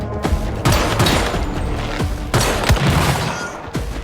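Loud weapon explosions from the game Once Human: a rapid series of booming blasts and sharp cracks, some overlapping, going on for about four seconds with dense crackling between hits.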